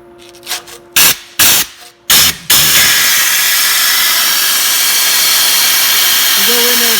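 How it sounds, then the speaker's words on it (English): Angle grinder fitted with a flap wheel polishing the inside of an old Mayrath auger gearbox housing, spinning up after a few short bursts into a steady, loud, hissing whine that runs alone to the end. "We're going to have to take a grinder and a flapper wheel."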